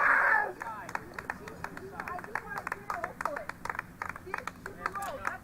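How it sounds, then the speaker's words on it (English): Protesters at a university rally clap in scattered, quick bursts throughout, with crowd voices and shouting mixed in close by. "these guys were clapping"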